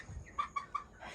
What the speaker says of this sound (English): In here is 12 roosters, y'all.